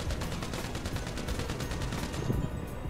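Rapid automatic gunfire rattles in an even, fast rhythm in GTA, loud and continuous for a few seconds, with no talk.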